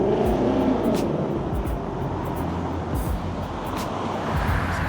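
A bus rolls by on a city street, a steady close drone of engine and tyre noise with traffic rumbling around it, with no voices.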